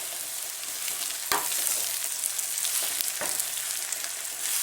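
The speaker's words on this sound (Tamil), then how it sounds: "பாவக்காய் ஒரு மீடியம் ஃப்ளேம்லேயே வச்சு வதக்குங்க." Bitter gourd fries in oil in a pan over a medium flame, a continuous bright hiss of sizzling with a couple of sharp stirring scrapes, close-up and steady with no talking.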